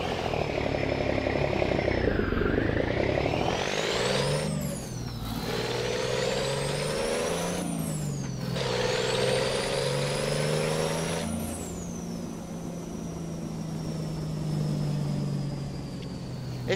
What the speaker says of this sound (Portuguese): Esse caminhão vira bem